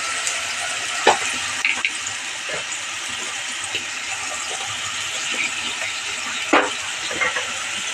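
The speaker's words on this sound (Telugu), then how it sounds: "టమాటా కొంచెం వేగాలి." Tomato paste fries in a pan with onions, giving a continuous close sizzle with scattered sharp ticks and spatters.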